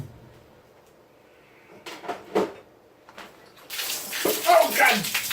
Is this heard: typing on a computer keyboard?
no